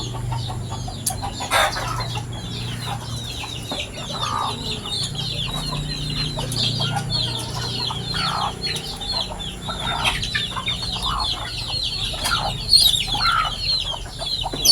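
A mother hen clucking continuously close by, a busy chatter of short repeated clucks with occasional louder calls, over faint farmyard background noise.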